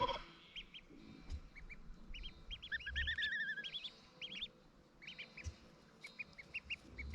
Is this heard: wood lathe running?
no